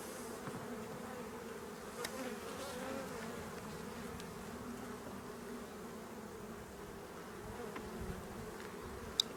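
Honeybees buzz around an open nucleus hive holding a small colony, a steady dense drone close by with individual bees passing near, continuous and fairly soft with no talk.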